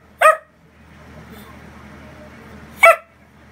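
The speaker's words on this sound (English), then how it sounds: "A loud barky dog." A wiener dog lets out two sharp, loud barks close by, roughly two and a half seconds apart, with quiet room noise between them.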